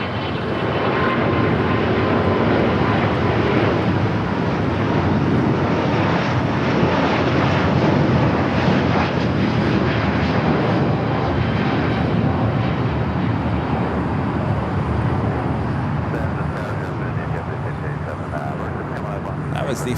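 An airliner departing Los Angeles airport on Flight 7 to Tokyo Haneda, a loud, sustained broadband jet engine roar that holds steady and close for the whole stretch, with some voice underneath.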